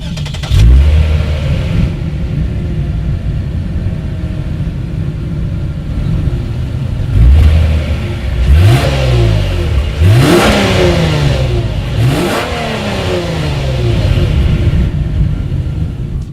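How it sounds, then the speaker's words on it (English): The dual chrome-tipped exhausts of a 2019 Lexus IS 300 F Sport sedan rev repeatedly: a start, then several sharp throttle blips that rise and fall, loud and close, over a steady idle rumble. "dual exhaust outlets with chrome tips, so you guys know what we have to do next"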